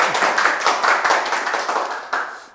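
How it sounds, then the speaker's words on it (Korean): An audience at an urban regeneration class claps to welcome the lecturer, a dense burst of hand claps that gradually thins, with a sharp accent near the end. "오늘 박수로 강사님 만나주시면"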